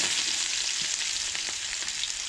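Garlic and ginger frying in hot oil in a pan for a Goan-style button mushroom curry, a steady close, loud sizzle with a few faint stirring knocks, no voices.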